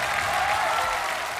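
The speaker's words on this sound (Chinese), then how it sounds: "让我们把掌声送给坚强的妈妈" Audience applause at a CCTV televised talent-show final, a dense, steady clapping that holds at full strength from start to finish with no voices over it.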